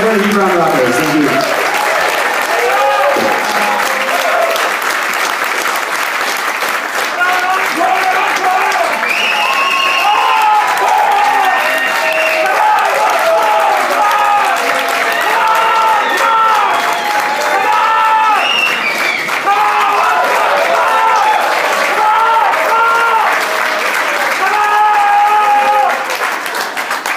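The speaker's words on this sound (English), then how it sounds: "Very big round of applause." A live concert audience applauds and cheers after a band's first-ever show, loud sustained clapping that fills the whole stretch, with shouts and voices mixed through the crowd noise.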